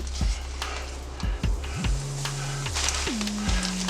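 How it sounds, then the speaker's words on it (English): Fish shallow frying in a pan on a stovetop, a steady sizzle broken by a few short clanks and scrapes of cookware, with no talking. "This is just going to be a shallow pan fry."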